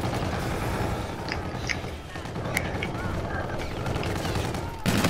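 Rapid pistol gunfire in the shooter game Call of Duty: Infinite Warfare, sharp shots crackling amid dense, busy battle noise with overlapping effects and game sounds throughout.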